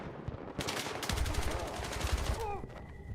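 Dense, continuous automatic gunfire in the shooter game Wardogs, loud overlapping bursts rattling throughout with a brief rising whine near the end.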